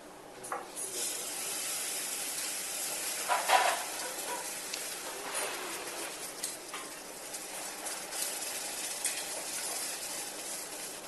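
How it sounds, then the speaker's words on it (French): Hot caramel sizzles and hisses steadily as cream and melted butter are poured in, with a few louder spitting bursts near the start, then a softer, constant bubbling fry. "On va le déglacer directement"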